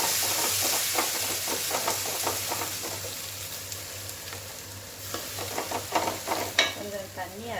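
Tomatoes cooking down with ginger garlic paste in a pan for a green pea kurma, a steady close sizzle with repeated spoon stirring and scraping throughout, a few louder clinks near the end.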